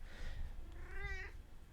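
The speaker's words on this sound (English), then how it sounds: "that's what it sounds like every time she meows at me" A pet cat gives a single drawn-out meow, rising then falling, close by over a low background rumble.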